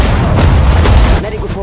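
Dense battle din of gunfire and artillery in the World War II strategy game Sudden Strike 4, desert warfare setting, with booming blasts and rapid shots layered thickly throughout, loud and continuous, easing slightly near the end as a voice briefly calls out.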